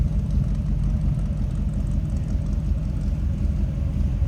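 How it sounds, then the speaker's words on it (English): A 1957 Chevrolet 210 two-door hardtop idles with a deep, steady exhaust rumble without a break, low and throaty, with no voices over it. "nice deep"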